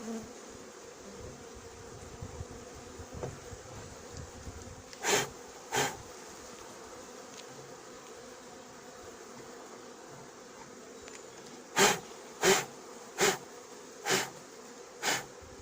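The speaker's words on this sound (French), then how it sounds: "Souffler sur les abeilles, elles détestent, ça les fait voler" Honeybee swarm buzzing steadily while being hived, a dense insect hum throughout with several short louder bursts as bees take flight up close, no talk.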